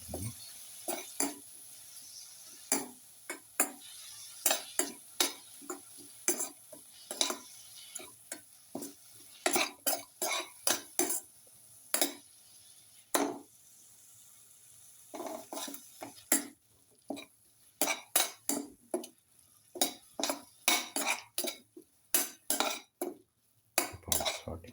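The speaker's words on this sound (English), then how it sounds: "Keep on sauteing." Egg, spinach and rice mix being sautéed in a pan, a steady run of sharp spatula scrapes and clinks against the metal at an irregular rhythm, close and fairly loud, with a faint sizzle beneath and no talking.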